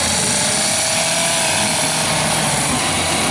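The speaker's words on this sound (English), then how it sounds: "Looks like they're doing some wood carvings over here with chainsaws." Chainsaws carving wood at an outdoor Christmas light display, a loud, steady, buzzing roar that runs without a break through the whole stretch.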